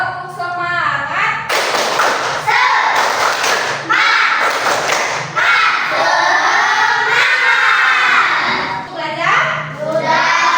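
Indonesian primary classroom at the start of a morning lesson, students clapping a rhythmic spirit clap in loud bursts with thumping beats, children shouting along and a teacher's voice mixed in.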